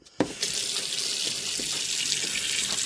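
Tap water gushes steadily into a container to make a water bath for freshly smoked sausages, beginning abruptly and running at a constant close, loud rush.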